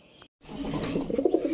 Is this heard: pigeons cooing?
yes